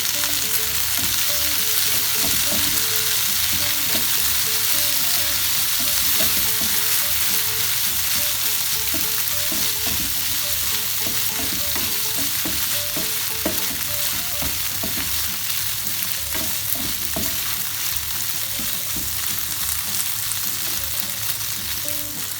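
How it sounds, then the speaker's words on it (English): Gnocchi frying with browned onions and garlic in a pan, a loud, steady sizzle with occasional stirring clatter, close and continuous. "Stir it around a few times, mix it around a few times rather"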